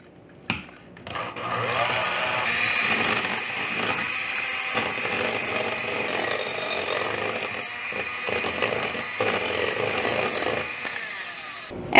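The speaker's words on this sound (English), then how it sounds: "get your mixer, and we're just going to mix this till it's really smooth" Electric hand mixer beating pumpkin cream cheese bread batter, gluten free, in a bowl: a steady whirring drone that runs almost unbroken for the whole stretch, close and fairly loud, with small dips as the beaters shift.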